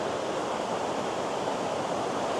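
Water rushes down rocks at Purakaunui Falls, a steady broadband hiss heard from a short distance, faint and unbroken, with no voices.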